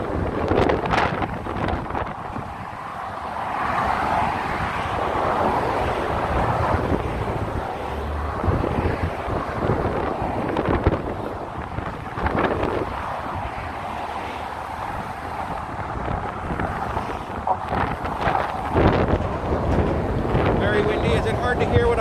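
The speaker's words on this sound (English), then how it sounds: "It is a foggy day here and a very windy day here." Strong gusting wind buffets the microphone on the foggy Golden Gate Bridge, a loud, constant rumbling roar with uneven surges that continues throughout.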